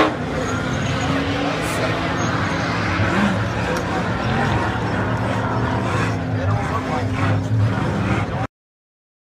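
An Ultra4 off-road race car crawls and grinds through a rock section during a national championship race, its engine a steady loud drone with continuous broadband rumble throughout and ending abruptly.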